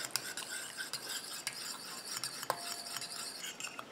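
Oil and water being stirred together in a container for a homemade coconut sun cream, producing a steady wet swishing with repeated light utensil taps against the bowl, near and alone.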